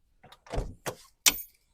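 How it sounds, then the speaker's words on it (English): A car door on a BMW Z3 coupe being opened, with a few close clicks and rustles leading to a sharp latch release and a clunk as it swings open, no talking. "But as you can see, when I open this door,"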